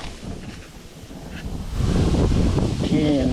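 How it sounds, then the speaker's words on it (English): Steady wind blows outdoors around a grill cooking baby back ribs, burgers, brats and tenderloin steak, a broadband rushing that grows louder and gustier partway through, with faint tonal sounds near the end. "Wind's blowing all the time in this place."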